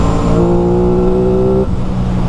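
An Aprilia Tuono motorcycle's engine and exhaust hold a steady, loud tonal drone with stacked harmonics, then shift pitch downward near the end as the revs change, close by and without speech.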